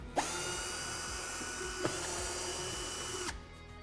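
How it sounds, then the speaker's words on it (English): A power driver whirs steadily and close for several seconds while unscrewing a window striking plate, with a few faint clicks and a sudden stop at the end. "So we can just screw these out with a screwdriver."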